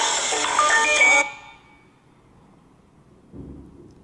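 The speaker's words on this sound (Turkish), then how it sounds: "telefon çaldı, annem arıyor." A phone ringtone plays loudly with a bright electronic melody for just over a second, then cuts off, leaving a quiet room hum and a faint low rumble near the end.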